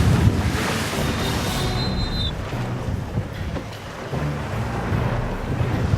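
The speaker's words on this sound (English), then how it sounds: "some of them reaching 10 feet and literally breaking and cresting on the bows of the sailboats" Rough ocean waves up to ten feet breaking over the bows of racing sailboats, a continuous heavy wash of surf and wind buffeting close to the microphone, with no speech.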